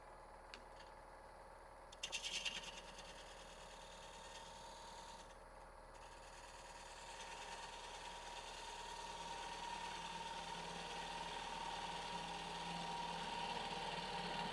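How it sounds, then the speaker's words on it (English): Spindle gouge cleaning up the base of a natural edge wooden bowl on a wood lathe, a steady whirring hum with a brief scraping burst near the start, building slightly louder, no speech. "clean up the base here. I'm going to do that with my spindle gouge"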